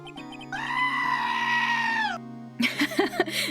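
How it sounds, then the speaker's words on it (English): A video game sheep lets out one long, strained scream-like bleat, followed by a burst of shorter, choppier game sounds. "Why the sheep scream, though?"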